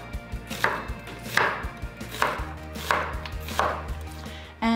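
An onion being chopped with a knife on a cutting board, a steady run of sharp, evenly spaced blade strikes close by, with no talking.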